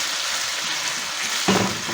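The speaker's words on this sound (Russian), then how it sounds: "Грудки куриные, они быстро жарятся." Chicken breasts sizzle steadily in a hot pan with a constant frying hiss, and a brief louder burst of stirring comes near the end; no one speaks.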